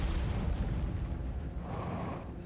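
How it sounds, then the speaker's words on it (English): Explosions in the video game Outer Wilds rumble as a continuous, heavy roar of deep booms and crackling debris, loud and unbroken throughout. "Those explosions that are constantly happening keep scaring me."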